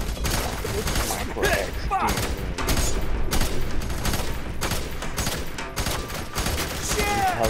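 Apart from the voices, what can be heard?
gunfire in the video game F.E.A.R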